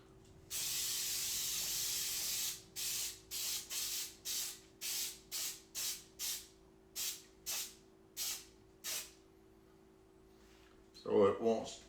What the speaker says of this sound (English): baking spray with flour in it